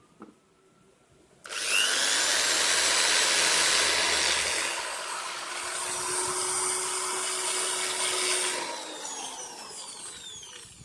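A hand drill whines loudly for several seconds boring out a rubber engine-mount bushing on a Hyundai Trajet, its pitch shifting as it bites into material, then winds down to a fainter hum.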